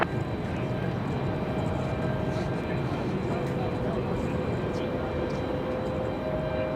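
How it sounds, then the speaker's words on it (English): Boeing 787 Dreamliner taxiing at Raleigh-Durham International Airport, a steady broadband engine rumble with a faint whine held at an even level throughout, with talk over it. "Here comes that Dreamliner. Get a good view of it taxiing down."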